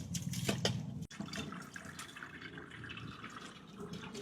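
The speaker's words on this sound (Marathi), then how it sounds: "आपण स्वच्छ धुवून घेऊ त्यांना" One kilo of flattened rice (poha) is washed in water, with sloshing, swishing and dripping sounds continuing at a steady moderate level and a brief knock early on, with no talk.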